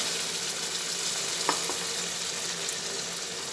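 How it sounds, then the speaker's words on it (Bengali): Boiled masoor dal is stirred into fried winter vegetables in a pan, giving a steady close bubbling sizzle with one faint knock of the spoon partway through and no talk. "ভালোভাবে একটু নাড়াচাড়া করে নিই।"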